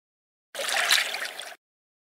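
Icy water thrown in one brief splashing burst of about a second, loud and close, with no talk over it.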